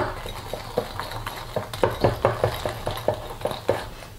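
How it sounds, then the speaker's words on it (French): A utensil knocks and scrapes rhythmically against a bowl while stirring an egg yolk, sugar and cornstarch mixture, with repeated close clinks in a steady beat. "Un dernier mélange et c'est prêt."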